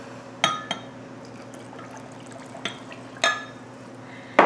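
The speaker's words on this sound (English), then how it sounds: "Now I'm going to add 1 cup of boiling water to my Jell-O." Boiling water is poured into Jell-O in a glass measuring cup for a strawberry poke cake, with sharp glassy clinks and taps against the cup over a soft liquid wash and low kitchen hum.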